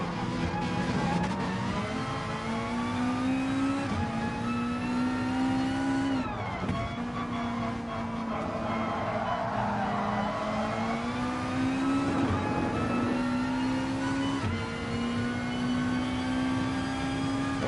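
Mazda race car in Gran Turismo 3 at the Nürburgring, its engine droning steadily and rising and falling in pitch through gear changes and corners, loud and continuous with no talk.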